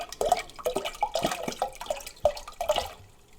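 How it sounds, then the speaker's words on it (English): Strawberry kiwi juice pours from a liter bottle into a punch bowl, a close, uneven liquid glugging and splashing that runs steadily and then tapers off. "I'm going to use an entire liter of strawberry kiwi juice."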